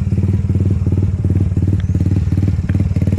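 A loud, close Honda Biz motorcycle engine idling with a throbbing, pulsing beat, uneven pops and clatter over the low rumble.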